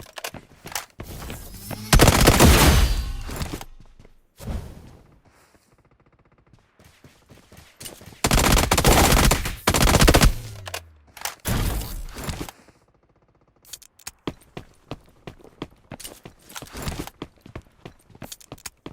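Gunfire in a video game comes in loud sustained bursts separated by quiet gaps, with scattered single shots and clicks trailing off toward the end.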